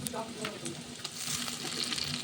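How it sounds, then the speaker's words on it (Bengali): Chopped onions and tomatoes fry in a pan for pomfret fish kalia, giving a close steady sizzle broken by soft scraping stirs, without any speech. "টমেটো কুচিগুলো দিয়েও একটু ভালো করে নেড়ে চেড়ে নেব"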